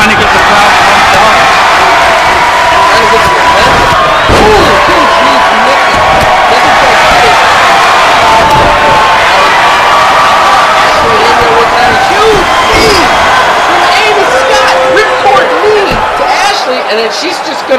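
A wrestling arena crowd cheers as a wrestler tries to pump them up, a loud continuous roar with scattered thuds and claps, a commentator talking over it.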